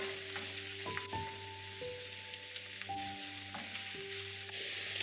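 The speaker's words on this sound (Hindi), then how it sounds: "घी गरम हो गया है। सबसे पहले मैंने अनियन ऐड कर दिया है।" Onion frying in hot ghee gives a continuous, close crackling sizzle that stays even throughout, with gentle music playing underneath.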